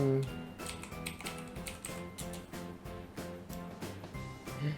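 Quick clicking keystrokes on a computer keyboard while chatting during a Roblox game, close and rhythmic in short bursts over faint background music.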